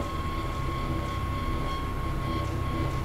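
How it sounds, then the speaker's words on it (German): A train in the video game Black Mesa gives off a steady, dense rumble with a constant hum, loud and unbroken throughout with no voices. "Ist das mein Zug?"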